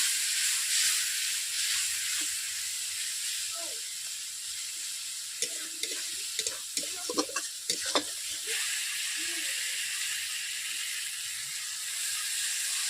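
Masala frying for a rohu fish curry, a steady bright sizzle with a burst of spatula scrapes and clinks in the middle, close by, with no speech.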